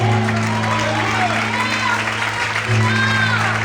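A church congregation applauds to praise the Lord during a service, with clapping spread over a steady organ-like hum and voices rising over the crowd.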